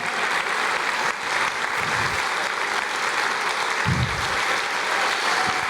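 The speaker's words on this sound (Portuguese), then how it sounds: "Aplauda mais, aplauda mais." Church congregation applauding together during a worship service, a steady full wash of clapping filling the room throughout, with a few low voice-like bursts rising underneath.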